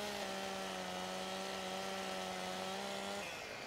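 A virtual chainsaw in Farming Simulator 2017 cuts tree trunks with a steady, loud, buzzing engine drone that holds one pitch for about three seconds, then cuts off and trails into noise.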